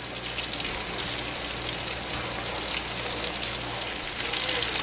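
Flamin' Hot Cheetos-coated pickles, about four at a time, frying in hot oil with a steady, dense crackling sizzle and fine bubbling that continues evenly throughout, with no voices.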